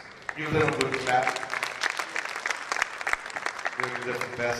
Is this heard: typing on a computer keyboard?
no